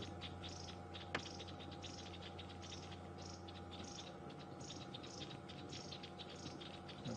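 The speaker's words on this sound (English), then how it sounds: "You can hear all this twittering, this chattering that several bird species are making" Crombecs and several other bird species twitter and chatter in a buffalo thorn on an evening safari drive, faint, distant, rhythmic chirping bursts repeating over a steady hum, with one sharp click early on.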